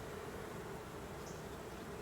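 Bees buzzing around an open Layens hive, a steady, close, droning hum of many insects, faint overall and unbroken, with no speech.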